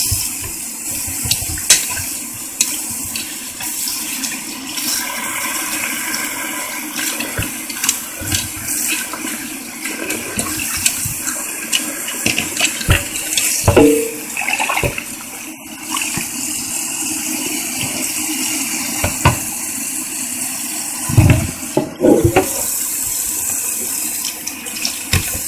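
Tap water runs steadily into a kitchen sink as potatoes are rinsed while preparing a Sunday dinner, a continuous splashing flow with brief clunks and sloshes, fairly close, with no talking.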